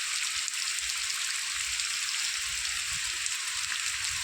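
Rainwater running through a village yard, heard as a steady broad hiss of flowing water with faint low patters underneath.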